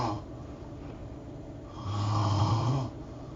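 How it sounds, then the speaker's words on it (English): Someone snores over a voice chat during online gaming, letting out a single long, rasping snore near the middle against a constant background hiss. "Oh, yeah, somebody is snoring."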